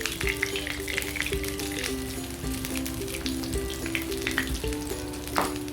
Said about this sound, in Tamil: இப்போ இதில் பணியாரம் ஊற்றுறாங்க பாருங்க.